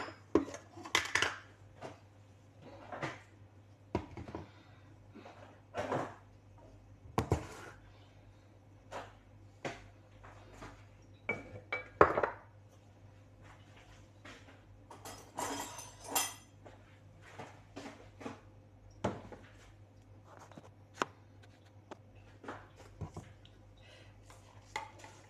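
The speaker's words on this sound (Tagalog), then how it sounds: "Magtimpla din ako ng kape guys." Spoons and cups clink while coffee is made with sugar, scattered sharp, close-up metallic and ceramic taps and stirring knocks in quick clusters, separated by quiet gaps over a low steady hum.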